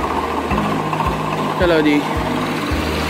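A tractor engine runs in a village, knocking in a steady, evenly spaced low thump about twice a second. Someone speaks briefly over the engine.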